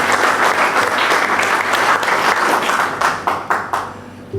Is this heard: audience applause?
yes